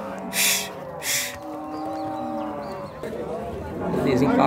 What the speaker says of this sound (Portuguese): tá com a vaquinha gorda aqui, ó